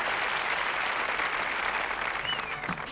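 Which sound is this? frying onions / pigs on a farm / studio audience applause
studio audience applause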